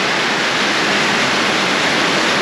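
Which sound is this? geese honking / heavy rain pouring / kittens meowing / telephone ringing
heavy rain pouring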